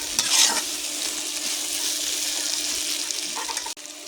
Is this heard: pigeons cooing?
no